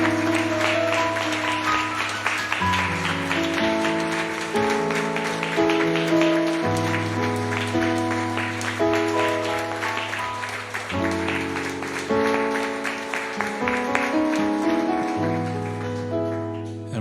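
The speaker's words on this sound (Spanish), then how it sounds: "Le damos un aplauso al Señor," A church congregation applauds the Lord in a steady wash of clapping that blends with sustained instrumental music chords playing loudly underneath throughout.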